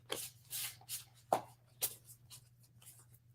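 Oracle cards being shuffled by hand, a series of soft riffling bursts and papery slaps close up, with quiet gaps between and a low steady hum underneath.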